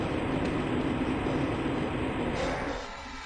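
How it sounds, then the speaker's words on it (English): A train rolls along in the video game Half-Life Blue Shift, giving a steady, loud rumbling roar with a clattering hum that fades slightly at the end. "This train is inbound."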